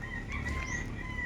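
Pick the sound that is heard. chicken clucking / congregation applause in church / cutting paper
chicken clucking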